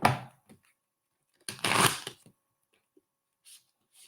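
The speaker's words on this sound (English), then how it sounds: "I'm shuffling the cards." A deck of cards being shuffled by hand, with one short riffle burst, a longer louder flurry of riffling, and a few faint taps and rustles in between and afterward.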